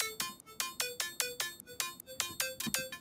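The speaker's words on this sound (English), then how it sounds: "It basically creates this really sharp sort of transient sound so that the lead kind of cuts through more." A sharp, bright synth layer for a driven staccato lead plays a rapid rhythmic series of short, biting stabs with hard transient attacks and ringing high end, about a dozen hits in three seconds, with no talk.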